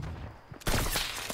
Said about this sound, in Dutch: Ik hoorde weer schoten ergens achter ons